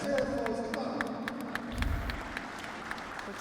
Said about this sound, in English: applause from the arena